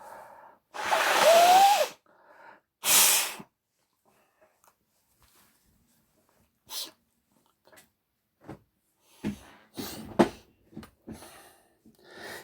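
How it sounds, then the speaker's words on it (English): Nose blowing in a quiet room: a loud, breathy honk lasting about a second, then a shorter sharp burst, followed by sniffs, rustling and small intermittent noises. "Gotta blow my nose."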